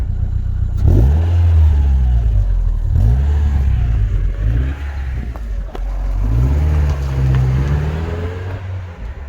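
An MG TF 135 with the K-Series engine revs hard at wide open throttle, climbing through the gears in several rising sweeps with brief dips at each shift, loud and close throughout.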